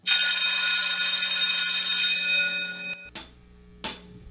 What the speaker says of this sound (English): Adi bell that?